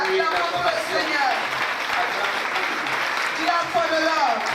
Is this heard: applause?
yes